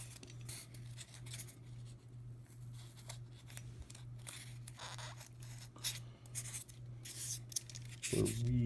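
Small chunks are cut out of a scatter terrain piece, giving faint, close, irregular scraping and snipping strokes over quiet room noise, with a brief knock at the end.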